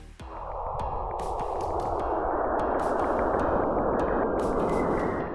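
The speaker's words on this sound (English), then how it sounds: "That's the sound of plasma waves moving between Saturn and its moon Enceladus." Plasma waves between Saturn and its moon Enceladus converted to audio: a dense, hissing wash of noise that slowly swells and holds, with faint clicks and pings scattered through it, sounding eerie and synthetic.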